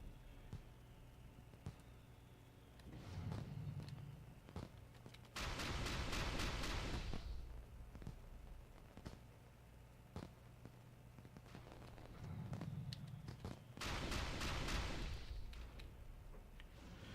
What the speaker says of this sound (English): There's a little more fireworks than they usually have.